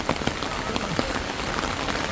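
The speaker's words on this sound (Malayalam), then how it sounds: "നല്ല മഴ എന്ന് പറഞ്ഞാൽ നല്ല മഴയാണ്." Heavy rain pours down at Kottiyoor temple, a steady dense hiss with scattered louder patters of drops hitting surfaces close by, continuous throughout with no speech.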